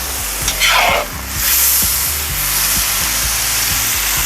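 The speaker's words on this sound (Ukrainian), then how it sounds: "Через 2-3 хвилини від початку смаження курячої печінки вона віддала всю вологу." Chicken liver frying in a cauldron (kazan), giving a steady loud sizzle that fills the whole stretch, with a brief stirring scrape near the start.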